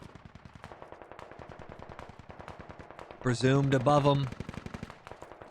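Full-auto gunfire from a military video game, rapid evenly spaced shots running throughout as a steady rattling burst, with a person speaking briefly over it midway.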